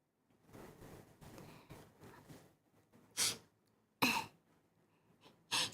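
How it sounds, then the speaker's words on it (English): Several close, soft sniffles and breathy snorts come in short bursts with pauses between them, and no talking. "Sniffles."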